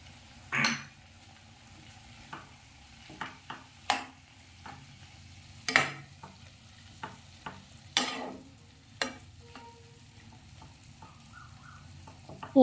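Spices and cumin powder sizzle gently in a pan with drumsticks while a utensil scrapes and clinks against the metal in scattered strokes, close by and without talk.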